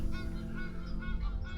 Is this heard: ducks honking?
yes